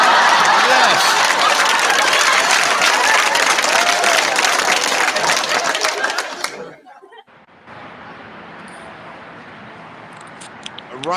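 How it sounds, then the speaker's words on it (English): Small group applauding during a casual online show, dense loud clapping with laughter and chatter that fades out abruptly midway, leaving quieter room noise and talk. "Round of applause."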